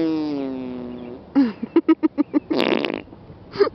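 A human voice imitates an old person's fart while walking: a drawn-out buzzy tone, then a run of short rhythmic sputters and a final wet blast, close to the mic.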